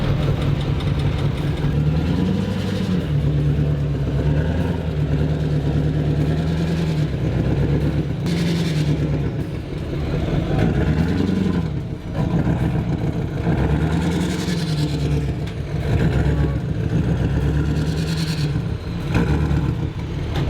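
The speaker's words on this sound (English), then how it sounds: "So this guy is towing the truck away right now." A tow truck engine idles and drones steadily with low rumbling while towing away a broken-down Duramax pickup, occasionally rising slightly as if working under load; no talking.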